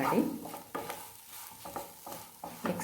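Spiced potato samosa filling stirred in a pan with coriander seed powder and garam masala, heard as a few distinct scraping strokes at a steady rhythm over a faint background sizzle, close up with no voices.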